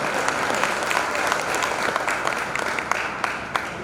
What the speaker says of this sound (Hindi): एक बार जोरदार ताली आप इनके लिए बजाइए